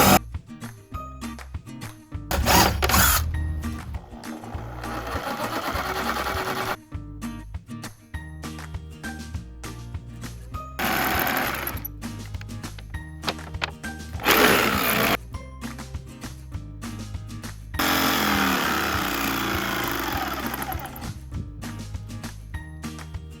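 A drill bores a starter hole in an old floorboard, then a jigsaw cuts through the board in bursts of loud buzzing separated by pauses and clinks, with background music throughout.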